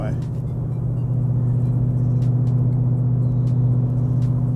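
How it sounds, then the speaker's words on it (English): A Ford Mustang GT fitted with a Borla 3-inch S-Type cat-back exhaust lugs in sixth gear at about 1,400 rpm and 50 mph on the highway, a steady deep droning rumble with road noise, unbroken throughout. "I'm actually lugging the engine now, only doing about 50 miles an hour"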